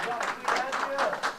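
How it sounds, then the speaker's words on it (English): An audience claps for a guest speaker at a leadership session, a short burst of applause mixed with crowd noise and voices over it. "Can I get a round of applause, please?"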